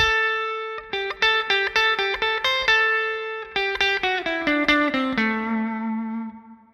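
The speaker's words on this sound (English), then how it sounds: "Little basic sounding blues lick." Electric guitar plays a basic blues lick in A with no bends, a run of quick picked notes with a slightly distorted, reverberant tone, clear and alone before the last note rings out and fades.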